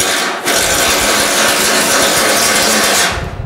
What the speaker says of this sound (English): So let's knock some of these welds down.